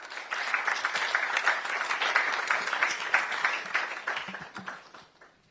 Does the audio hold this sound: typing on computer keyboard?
no